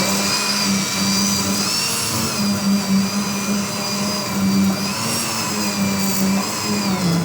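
A kitchen blender purees cooked vegetable soup with celery, its motor whirring loud and steady with a low churning hum that rises and falls slightly as the contents blend.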